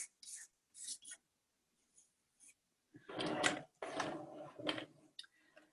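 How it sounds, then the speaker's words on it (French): A pencil marks a piece before cutting, making faint, close, scratchy strokes in short bursts separated by quiet pauses, with a longer, busier run of scraping toward the end. "avec un crayon, je vais aller marquer"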